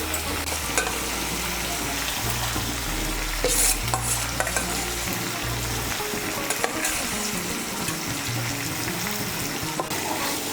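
Green chilli paste sizzles in hot oil while being stirred, a loud continuous frying hiss with spoon scrapes and brief clatters, close up and without speech.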